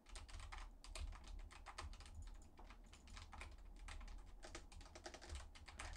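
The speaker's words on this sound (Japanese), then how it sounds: "ゲーム配信でよくあるこのキーボードのカチャカチャ音" Rapid, continuous typing on a keyboard with quiet linear switches, keys clacking in quick irregular bursts, close and fairly soft, with no voices.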